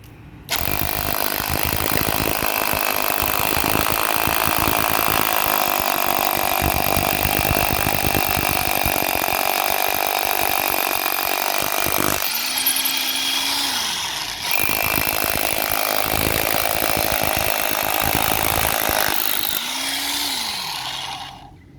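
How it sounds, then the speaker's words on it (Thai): A power drill grinds continuously into concrete at close range, loud and harsh, with two brief pauses where the motor winds down before starting again. "มันจะเจาะปูนให้พี่ดูนะ"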